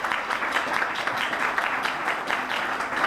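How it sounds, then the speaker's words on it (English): Audience at a Pittsburgh workforce hub press conference claps steadily for about three seconds, a dense, even applause from a roomful of people. "You should give yourself a round of applause for that"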